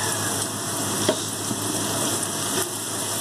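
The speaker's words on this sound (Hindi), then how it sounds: "बस ये प्याज फ्राई हो जाए" Onions frying in a pan with garlic-ginger paste, curry leaves, turmeric and tikka masala for beef qeema make a steady close sizzle, with a couple of faint stirring clicks and no talking.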